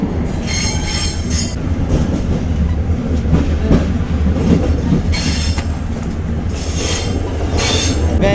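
Train moving slowly into the Sfax city centre in Tunisia, heard from on board with a steady close rumble, wheel squeals and recurring clanks as it rolls along.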